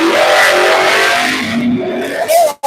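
A drag race car launching with a wheelie at a drag strip, with a loud engine roar sustained across the clip, rising in pitch toward the end before cutting off abruptly.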